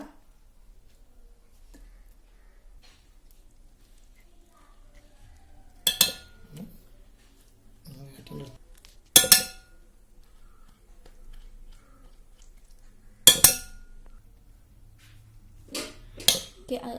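A spoon clinks against a mixer jar as avocado goes in to make juice: four sharp, brief metallic clinks spaced a few seconds apart, with quiet room background in between.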